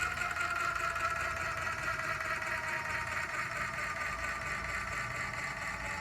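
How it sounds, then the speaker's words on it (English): A VEVOR motorized 12V scissor jack motor rated 6600 lbs runs sluggishly under load, a steady strained electric whine and hum with no pauses, close and fairly quiet. "You can hear the motor becoming sluggish and hard to use"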